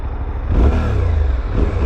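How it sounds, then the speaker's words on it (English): A Suzuki V-Strom 800 parallel twin motorcycle with about 172 miles fires up and settles into a steady, loud, close engine rumble that swells in the middle, alone with no talk. "Parallel twin. Making parallel twin noises."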